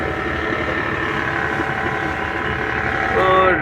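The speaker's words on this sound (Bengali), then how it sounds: "আর একটি লঞ্চ আসতেছে ওই সামনে থেকে" A passenger launch's engine drones steadily on a river in Bhola as another launch approaches from ahead, a continuous loud rumble with wind noise and a rising note near the end.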